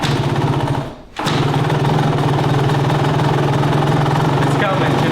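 A cold dirt bike, kickstarted with the choke on, catches and runs at a loud, rapid, rattling idle nearby. The sound cuts out briefly near the start, then carries on steadily.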